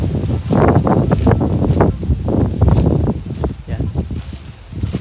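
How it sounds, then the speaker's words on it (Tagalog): Outdoor wind buffets the microphone in loud, rumbling gusts near water, with rustling underneath, while someone talks over it. "Hangin."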